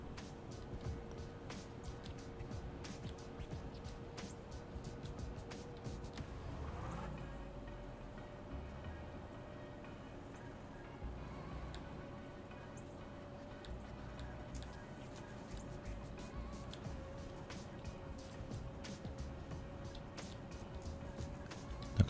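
A MAZ truck engine drones steadily and strains while struggling in deep mud in the video game SpinTires, its pitch shifting partway through, with a constant low rumble and faint ticking behind it.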